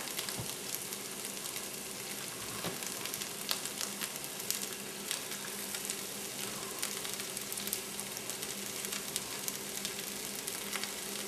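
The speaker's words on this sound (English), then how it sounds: "I'm going to add my garlic here. And it's 4 strips of fake bacon that we're going to add." Garlic and four strips of vegetarian fake bacon fry in a pan for Hoppin' John, giving a soft, even sizzle dotted with small pops and crackles throughout. The sound stays fairly quiet and no one speaks.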